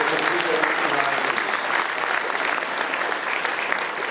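Audience at a railroad history convention applauding, a steady, full crowd of hands clapping at even volume for the whole stretch, slightly diffuse as if in a hall.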